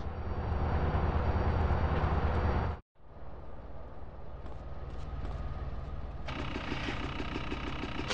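A video game train rumbles steadily with mechanical clatter and a low drone, briefly cutting out before resuming, with a brighter rattling layer joining near the end.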